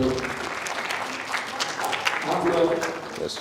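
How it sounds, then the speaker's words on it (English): Audience clapping for a student at a mentorship program event, a sustained round of applause from a crowd lasting a few seconds, moderately loud. "Round of applause for you."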